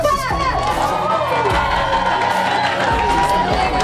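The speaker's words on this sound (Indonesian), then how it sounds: "Berikan tepuk tangan buat calon nomor urut 4" A school audience at a student council candidate debate claps and cheers for a candidate, a busy wash of applause, shouts and children's voices, loud and close, with chatter mixed through.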